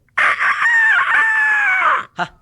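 A human voice imitates a rooster's crow, one loud drawn-out call lasting about two seconds, followed by a short clipped sound.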